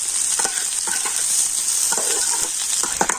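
Vegetables fry in hot oil in a pan, a constant bright sizzle with several scraping stirs of a spatula scattered throughout, close and loud, no voices.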